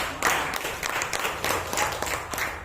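An audience at an indoor gathering in Tangerang breaks into applause, a dense, steady round of clapping from many hands that carries through the whole moment at moderate distance.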